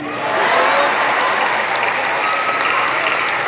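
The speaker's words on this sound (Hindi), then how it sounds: "पहली पैरोडी के लिए तालियां आमंत्रित करता हूँ।" Loud, sustained applause from a large audience at a Hindi poetry gathering (kavi sammelan) in Patna, swelling quickly and holding as a dense wash of clapping.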